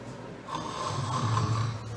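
A preacher imitates snoring with his voice, a single drawn-out nasal snore that builds into a rumbling snort.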